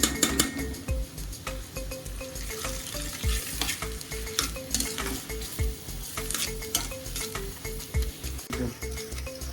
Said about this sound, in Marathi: कांदा गुलाबी रंगाचा होईपर्यंत चांगला फ्राय करायचा